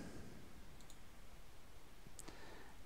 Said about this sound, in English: We click the button. We click again.